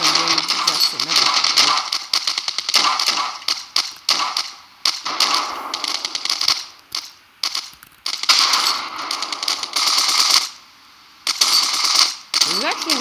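Rapid bursts of automatic gunfire from a machine gun in the Ravenfield video game, loud and near, in repeated stuttering volleys with short gaps, while someone talks over it.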